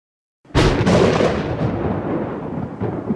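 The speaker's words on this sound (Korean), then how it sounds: "어머니의 호통 소리와 함께 천둥이 내리꽂혔습니다" A thunder strike used as a sound effect in a narrated story: a sudden loud crack follows a moment of silence, then a deep rolling rumble slowly fades. No speech is heard.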